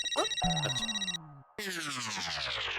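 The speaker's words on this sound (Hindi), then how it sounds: "पोपटलाल का फोन" Phone ringtone in a Hindi TV comedy scene, a bright electronic melody ringing loudly with a brief gap before it resumes.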